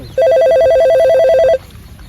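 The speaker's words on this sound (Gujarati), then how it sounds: "અગ્રવાલનો ફોન આવ્યો છે ચાઇનાથી ડીલ કરવા માટે" A telephone rings loudly and close in one rapid, warbling electronic trill lasting just over a second, then stops, leaving faint background noise.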